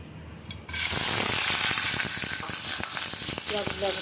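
Oil for a duck curry bursts into a loud sizzle in the pan after a brief quiet start, crackling steadily and close, with faint scraping clinks near the end.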